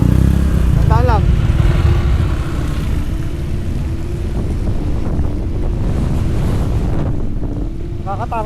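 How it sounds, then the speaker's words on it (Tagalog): Strong mountain wind roars across the microphone during a motorcycle ride up Mt Kilang, a loud continuous gusting rush with steady engine drone beneath and brief voices in between. "Nakakatakot yung hangin guys."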